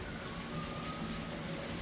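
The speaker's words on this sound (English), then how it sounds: "because it is raining, it is pouring today" Heavy rain pours steadily on a building site, a dense, even hiss with no breaks or other sounds.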